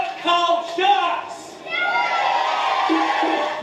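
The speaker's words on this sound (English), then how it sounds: "crowds raised their voices in Sydney" A protest crowd in Sydney shouting and cheering against a shark cull, with raised voices and whoops in two bursts, then a sustained, steady roar of many people nearby.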